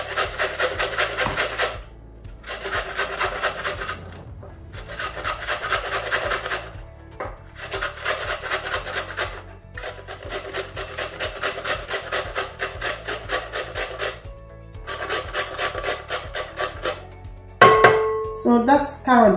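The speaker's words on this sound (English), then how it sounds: "that's carrot grated" Carrots are rubbed against a hand grater in repeated bursts of rapid scraping, each run lasting a couple of seconds with brief pauses between, close and fairly loud, ending with a clatter.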